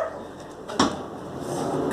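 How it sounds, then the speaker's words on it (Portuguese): A dog gives a single sharp bark partway through, heard at moderate distance over steady room noise. "Cala a boca, cachorro."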